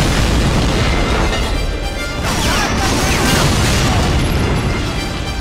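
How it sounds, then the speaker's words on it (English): Gunfire and artillery explosions from a video game beach assault form a continuous, loud barrage of booms and crashes with no pause. "storming the beaches amongst a hail of gunfire and artillery bombardment"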